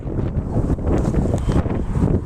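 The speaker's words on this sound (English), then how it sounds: "Bit windy now, viewers." Strong, gusty wind at Cayton Bay buffeting the microphone with a low, rumbling roar that rises and falls throughout, with no one talking.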